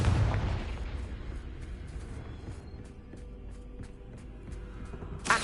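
A Confringo fire spell blast in Hogwarts Legacy bursts loudly at the start with a heavy, booming hit, then trails into a low, rumbling decay with faint crackles and a short pop near the end.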